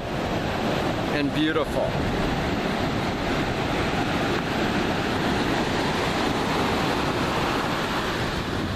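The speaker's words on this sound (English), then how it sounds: "You can hear the sound of the ocean." Ocean surf rolls steadily onto a California beach, a loud, continuous roar of breaking waves mixed with wind buffeting the microphone, and a person speaks briefly over it.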